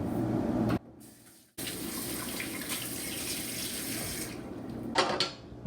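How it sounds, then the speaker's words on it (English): Water runs steadily from a kitchen tap while hands are rinsed during key lime pie baking, a loud continuous gush that briefly cuts off and then resumes. "I'll rinse my hands off."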